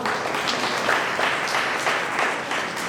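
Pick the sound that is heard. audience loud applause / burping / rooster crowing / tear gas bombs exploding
audience loud applause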